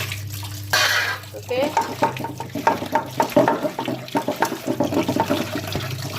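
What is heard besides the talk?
water poured to wash fish until it runs clear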